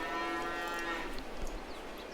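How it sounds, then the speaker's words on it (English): Cattle in Farming Simulator 22 moo loudly and close by in a long drawn-out call that fades, followed by quieter farm ambience. "My, the cows are very loud."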